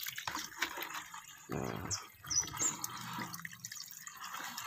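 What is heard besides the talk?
water being added to a softshell turtle tank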